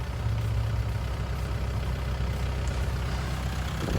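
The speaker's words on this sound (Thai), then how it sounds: "เครื่องยนต์ก็ติดง่ายนะครับ" A Kubota L5018 4WD farm tractor's diesel engine idles steadily nearby, a continuous low, rumbling chug with no speech over it.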